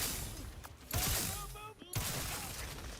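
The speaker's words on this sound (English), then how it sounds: "Oh, I shot the grenade out of his hand." Video game gunfire shooting a grenade: loud rapid shots and bursts with mechanical clatter, a brief gap, then more shooting, a voice faintly present.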